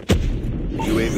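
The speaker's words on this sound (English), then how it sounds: "Grenade. Watch out, grenade!" A single grenade explosion in Call of Duty Mobile booms once, short and close, followed by a low rumbling tail with faint game effects.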